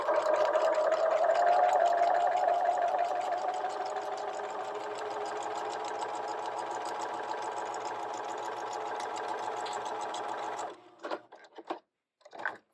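Sewing machine running steadily while stitching a fabric egg, a continuous close whirring hum that holds for about ten seconds before stopping, followed by a few short handling sounds.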